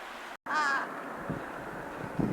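A carrion or large-billed crow gives a single harsh caw, followed later by a couple of softer, lower calls against faint outdoor background noise in Yakumo, Japan.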